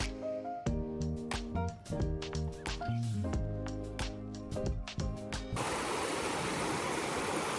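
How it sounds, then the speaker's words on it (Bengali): Water of a stream flows in a steady, broad rush, with bright dripping and splashing detail above it and a denser, even wash near the end. No speech is heard. "এখানে জলের কিরকম আওয়াজ শুনতে পাচ্ছেন?"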